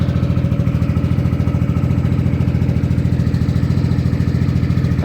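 A Rusi Flash motorcycle idles while warming up, its engine putting out a loud, close, even putter with a quick steady pulse throughout and no talking.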